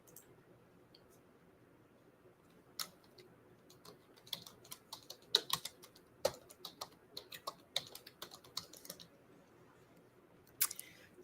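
Typing on a computer keyboard: irregular bursts of faint, close key clicks, some in quick clusters and others spaced apart, with nothing else heard.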